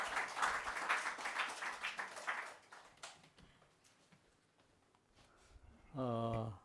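A church congregation applauds a visiting missionary from a Kitengela mission church in Africa at a pastor installation and dedication service; dense clapping fills the opening seconds, then fades into quiet room noise before a sustained tone at the end.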